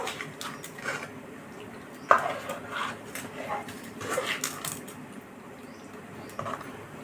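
Boiled gongura is mixed into mutton curry in a pot, with a spoon scraping and clinking against the metal in irregular bursts under ongoing talk.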